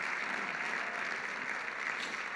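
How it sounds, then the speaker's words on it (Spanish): Church congregation applauding during a Spanish-language revival service, a steady wash of many hands clapping at moderate volume, without speech over it. "¿Lo puede aplaudir eso?"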